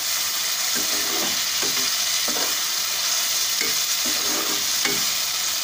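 Chopped tomatoes being stirred into hot frying oil in a pan, a steady close sizzle with soft, irregular scraping strokes of the spoon repeating every second or so.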